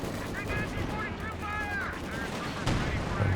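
Machine gun and rifle bursts crackle through a Company of Heroes 2 battle, steady gunfire with a sharper shot near the end, mixed under speech and game sounds.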